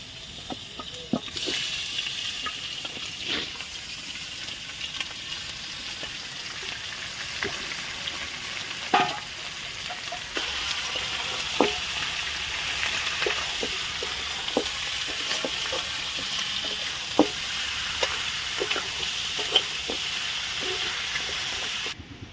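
Chicken skin sizzling and frying steadily in a pan for village-style curry with dried chillies, a dense continuous hiss broken by sharp crackles and pops, loud and close throughout.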